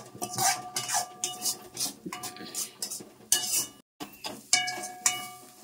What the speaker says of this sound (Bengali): এটা এইভাবে সমানে নাড়তে হবে, লেগে না যায়।